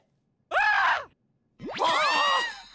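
A small pocket-sized Robin toy in a French-dubbed Teen Titans Go! cartoon gives two loud, close cartoon screams, a short wail and then a longer rising shriek, with a brief silence between them.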